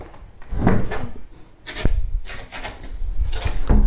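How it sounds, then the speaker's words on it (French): An old door in an abandoned building is pushed open, giving a loud, close scraping and rubbing of wood with creaks and a dull knock midway, all in one continuous effortful motion. "Allez, je vais ouvrir la porte."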